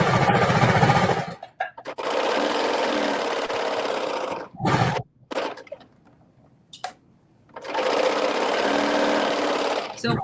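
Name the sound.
sewing machine stitching dress back seam pieces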